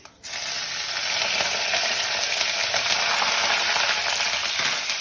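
Chilies drop into hot oil while making avarekai (lilva) upma, setting off a loud, steady, close sizzle and crackle that fills the pan without any voices.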